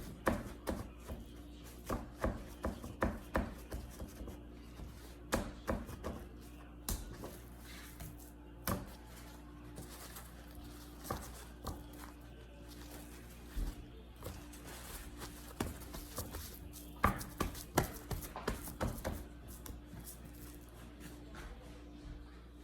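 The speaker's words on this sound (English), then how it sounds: "So we'll just pat dry these." Cured pork loin being patted dry by hand, heard as a string of soft, close, irregular dabs and light taps over a low steady room hum, with no talking.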